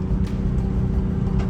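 A car with carbon parts accelerates in second gear up a highway on-ramp, giving a steady, loud engine rumble that stays even throughout with no talk over it.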